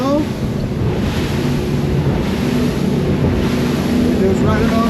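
A boat crossing toward Bimini runs through gently rolling ocean waves, its motor a continuous droning rumble mixed with rushing water and heavy wind buffeting the microphone, loud and steady throughout.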